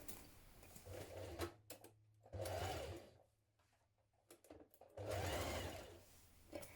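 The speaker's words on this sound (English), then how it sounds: "Now with your waistband pinned in place, stitch it in position." A sewing machine stitches a pinned waistband for a co-ord set, running in three loud bursts of whirring stitching separated by short pauses, close by with no talk.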